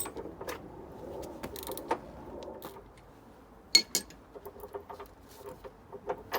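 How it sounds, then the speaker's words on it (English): A ratchet works on corroded bolts on a car under restoration, giving a loose series of sharp metallic clicks and clinks with short pauses between them, close by and moderately loud. "Now we're going to go to the ratchet."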